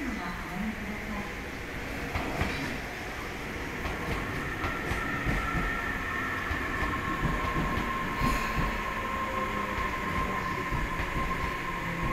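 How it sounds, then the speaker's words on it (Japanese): A train pulls in at the Tobu Kashiwa station platform with a steady rumble, clattering wheels and faint squeals. The sound stays even and moderately loud throughout, with public-address announcements murmuring under it. "新神奈川方面各駅停車船橋行きが内側電車で参ります。"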